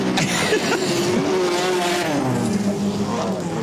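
A rallycross car at a Nordic rallycross event in Oulu roars loudly, its engine note sweeping and falling as it lifts off, with a rough crackly edge of overrun pops over constant track noise.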